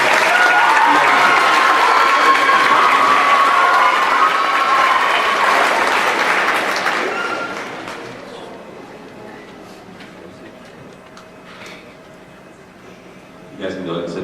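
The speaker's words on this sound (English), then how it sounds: "All right, let's give these guys a round of applause for" Audience applause at a school awards ceremony, a loud sustained clapping from a crowd for about seven seconds that fades away, followed by quieter room noise and a brief burst of sound near the end.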